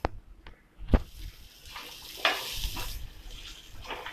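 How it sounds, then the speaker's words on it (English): Vegetables being sautéed in a pan sizzle softly with a few stirring scrapes and knocks, faint and close, without talk. "let's get back to sauteing this"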